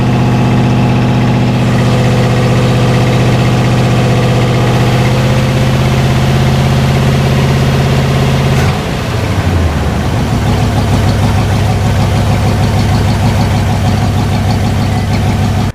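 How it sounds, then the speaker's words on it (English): A project car's engine idles loudly and steadily close by while the alternator charges, then the idle note drops abruptly partway through and settles into a lower, rougher rumble. "I don't know if you can hear me over the engine"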